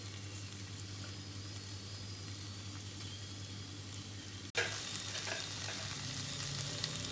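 Okra (bendakai) frying in oil in a pan, a steady, close sizzle that runs throughout, with a brief drop and then a louder burst of crackling partway through.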